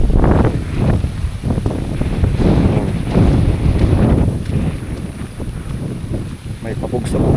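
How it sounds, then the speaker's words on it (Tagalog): Strong typhoon gusts from Typhoon Kristine batter the microphone in loud surging waves over floodwater, rising and easing repeatedly while a voice talks over the roar. "Humahambalos na naman yung hangin"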